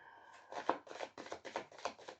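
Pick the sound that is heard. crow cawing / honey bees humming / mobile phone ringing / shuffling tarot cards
shuffling tarot cards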